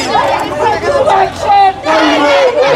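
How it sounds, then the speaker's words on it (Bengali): Polytechnic diploma students protest on a Dhaka road near the BUTEX campus, a loud crowd chanting slogans in rhythmic, ragged bursts with short breaks between them. "তাদের মিছিল সেটি নিয়ে কিন্তু তাদের ক্যাম্পাসে ফিরে যাচ্ছে বিভিন্ন স্লোগান দিতে"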